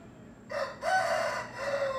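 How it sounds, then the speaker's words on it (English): A chicken, a rooster, lets out a loud, near crow in several rising and falling segments over about two seconds, alone without speech. "Sorry for the chicken."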